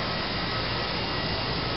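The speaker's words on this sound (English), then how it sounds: "I think I'll kind of do the rest of the blowing with the Echo" Echo PB-251 handheld leaf blower running outdoors during yard work, a loud, steady, unbroken close-up roar of the engine and rushing air.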